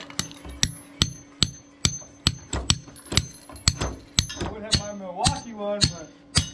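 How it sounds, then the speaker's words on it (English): A framing hammer strikes nails during an old deck rebuild, about a dozen loud, close, sharp blows at a steady rhythm, with a brief voice partway through. "We gotta use Nathan's hammer."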